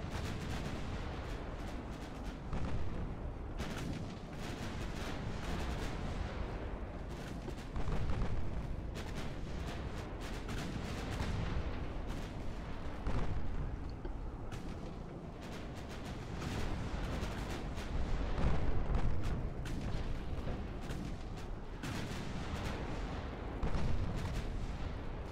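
Warships in the naval battle game Ultimate Admiral Dreadnoughts keep up continuous gunfire. Dense, rumbling booms and artillery blasts overlap in a constant roar, with heavier swells every few seconds.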